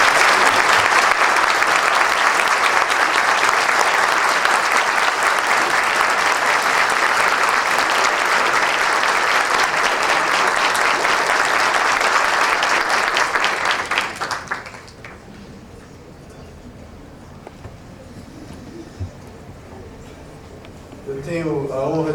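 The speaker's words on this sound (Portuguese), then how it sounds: "Eu proporia ao plenário uma salva de palmas aos nossos ilustres empossados." A plenary assembly at a court swearing-in gives sustained, loud applause for the newly installed officials, dense clapping that holds steady for about fourteen seconds and then drops away to a quiet room with faint stirring.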